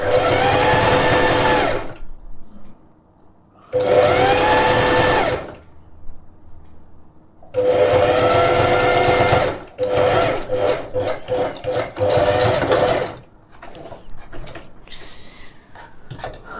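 A sewing machine runs zigzag stitches along elastic in loud mechanical bursts of about two seconds each, separated by short pauses, then a longer run broken into quicker stop-start stitching.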